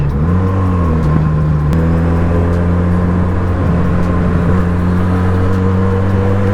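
A Benelli 302S motorcycle engine with its stock exhaust drones loudly up close, holding a constant pitch with a brief shift in tone, amid ongoing traffic noise.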